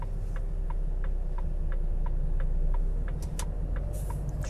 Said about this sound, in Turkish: Sol sinyali yaktım.